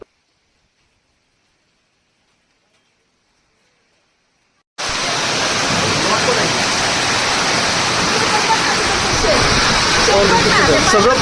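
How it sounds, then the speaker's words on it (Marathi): Heavy rain with hail pours down in a dense, steady roar that starts abruptly after several seconds of silence and stays loud and unbroken to the end. "तुम्ही फक्त व्हिडिओ बघा आणि पावसाचा आवाज ऐका"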